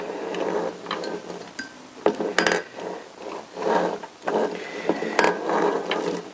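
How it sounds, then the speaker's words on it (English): A Honda CBR1000F engine bottom end is turned over by hand with a spanner on the shaft, giving close metallic clicks, ratcheting and light gear clatter in uneven bursts with a few sharper taps, no voices. "let's put our spanner on the shaft and make sure everything's turning nice and freely."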